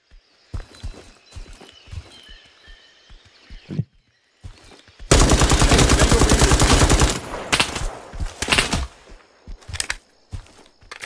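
A dense burst of rapid gunfire lasts about two seconds, framed by hoofbeats, footsteps and scattered single shots, in the video game Incursion Red River.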